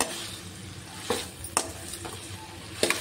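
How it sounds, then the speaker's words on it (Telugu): Okra and tomato pieces fry in a pan with a low, steady sizzle, broken by a few sharp scrapes and stirs of a spoon against the pan. No one talks. "ఇప్పుడు వీటన్నిటిని బాగా వేయించుకోవాలి."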